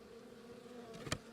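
Honey bees buzzing around the back of a hive, a steady low drone close by with a brief louder buzz as one passes near, and no one talking.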